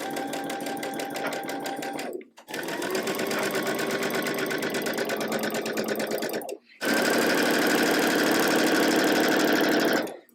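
A sewing machine stitches quilt block rows together for a Buttercup sampler block, running in three long continuous bursts separated by two brief pauses, steady and close.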